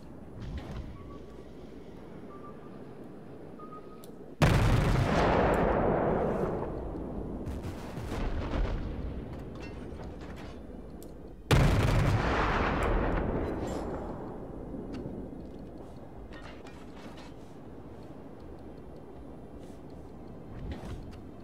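Warship main guns firing in World of Warships, two loud booming salvos several seconds apart, each with a long rumbling decay, over quiet background game sounds.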